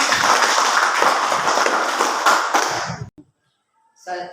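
A classroom of students applauding a classmate, dense clapping for about three seconds that fades out, then silence and a short burst of talk at the end.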